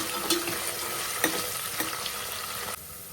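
Fenugreek leaves and other ingredients are stirred into a hot frying pan, giving a steady close sizzle with a few spoon scrapes and knocks, and the sizzle drops sharply near the end.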